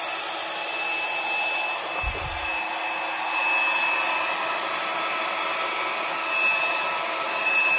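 A hair dryer blows across wet acrylic paint in a cloud pour, a steady broadband rushing whoosh with a faint whine, continuous and close for nearly eight seconds, with one brief low thump near the start.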